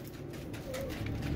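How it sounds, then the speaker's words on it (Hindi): Soft, low cooing from a Heera Laal pigeon, a short murmuring call heard close and faint over a quiet background. "ये देखो दोस्तों ये कबूतर आपको दिखा रहा हूँ दोस्तों मैं"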